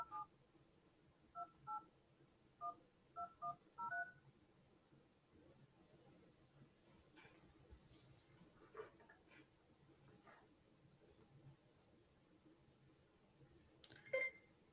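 Telephone dialing tones from a phone call: a rapid series of short DTMF beeps in quick clusters, then quieter line noise with a few faint clicks and a final brief tone.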